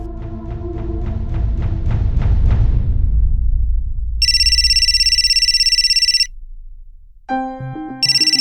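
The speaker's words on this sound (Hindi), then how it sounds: "अरे किसका फोन है और आप उठा काहे नहीं रही?" A telephone ringtone chimes in a bright repeating electronic pattern, loud and close, following a few plucked musical notes, then cutting out and starting again.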